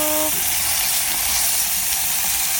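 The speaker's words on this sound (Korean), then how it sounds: "후추와 간 좀 해서 커팅해서 굽굽 해줄게요." Seasoned steak sears in a hot pan with a steady, loud, hissing sizzle that is close and continuous throughout.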